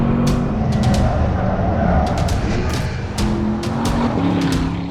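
A Porsche Panamera drives fast on the Nürburgring Nordschleife, its engine droning loud and steady from inside the car with brief tire squeals and rushing noise, while a voice is faintly present.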